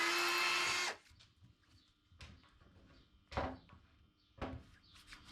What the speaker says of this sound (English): now I'm going to drill them at 525 so I can put these screws